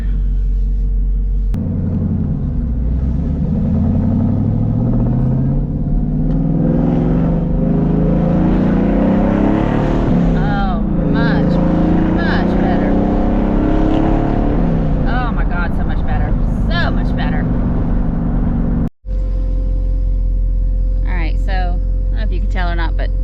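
A deep, rumbling supercharged V8 engine in a 2019 Camaro SS 1LE with long-tube headers and cold air intake idles loudly and steadily, with a brief cut near the end and faint chatter over it.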